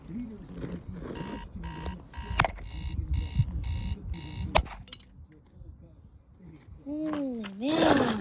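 A cardinal alarm clock rings with a rapid, buzzy, pulsing trill in quick repeated bursts, close and loud, punctuated by sharp knocks, with a voice mimicking a growl near the end.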